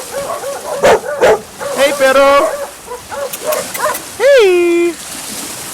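Stray dog in Guatemala barking and yipping a few times at close range, sharp bursts mixed with a whiny, rising yelp near the end, while a man calls out over it.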